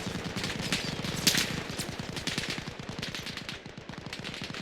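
Heavy gunfire rattles through a 12-versus-12 ranked video game match on the map Barzan, dense rapid automatic bursts with overlapping shots and explosions, loud and continuous throughout.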